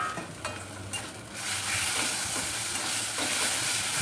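Pointed gourd paste hits hot mustard oil with black cumin and fried onion. A loud, close sizzle swells, with scraping stirs in the pan and no talking.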